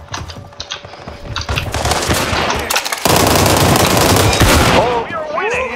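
Gunfire from a shotgun in the online shooter World War 3, loud and continuous with dense repeated blasts under a chaotic battle mix, a voice briefly heard near the end.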